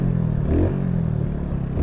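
A 2021 Mutt Mongrel 250 motorcycle's exhaust rumbles close by with a short rev that swells and settles into a steady low idle, picked up from a phone inside a backpack.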